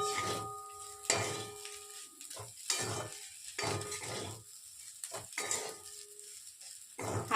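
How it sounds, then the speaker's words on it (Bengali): Egg stirred into masala pasta in a hot pan: repeated close spatula scrapes and metal clinks over a light, ongoing sizzle. "এবার ডিমটা দিয়ে একটু খানিকটা নেড়ে দিচ্ছি।"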